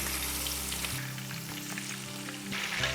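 A whole spiced chicken frying in hot oil, giving a steady, loud, close sizzle with bursts of crackling and occasional stirring or shifting noises, and no talking.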